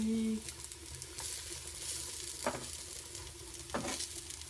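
Fish fries in a pan with a quiet, even sizzle and two distinct stirring scrapes, plus a brief tonal sound at the start.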